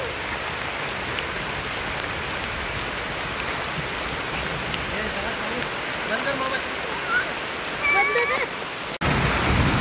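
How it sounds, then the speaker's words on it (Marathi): Heavy rain pours down steadily over a village rice field during the paddy harvest, a loud continuous hiss close by, with a brief break near the end. "पाऊस आलेला आहे."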